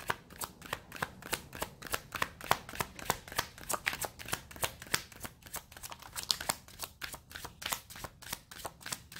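Tarot cards are shuffled in quick repeated riffling bursts, crisp and close, with a steady rapid rhythm and no talking.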